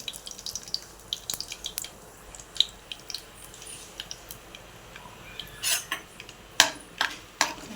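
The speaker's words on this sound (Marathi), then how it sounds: "या शेंगदाणे भाजूया करूया त्यामध्ये" Peanuts being roasted in a pan while making kande pohe, with scattered light clinks and scrapes of a spoon and pan, close and fairly quiet, sharper rattles clustering near the end.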